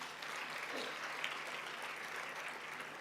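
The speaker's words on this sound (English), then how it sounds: "Can we clap hands for ourselves?" An audience claps together at a constitutional colloquium marking 30 years of the South African constitution, producing a steady, even wash of applause held at a moderate distance for about three seconds.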